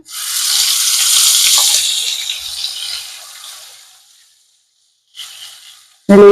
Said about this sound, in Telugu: ఇప్పుడు ఇదే ఆయిల్లో మనము రుబ్బి పెట్టుకున్నటువంటి ఈ ఉల్లి కారం మసాలా ఇందులో వేసేద్దాం